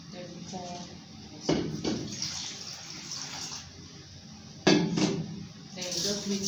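Water is poured into a pot holding sugar in a home kitchen, giving a running splash with clanks of the pot and utensils at two points, set against faint background noise.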